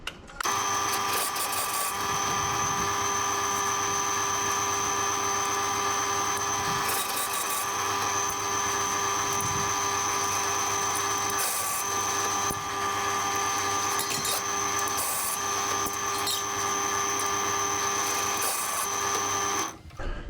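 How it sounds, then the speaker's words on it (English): A drill press bores holes in Volkswagen Type 3 brake drums, a steady high-pitched whine holding constant for the whole stretch with a few short broadband bursts of cutting noise, no talking. "on the drill press and drill these holes out to a 14"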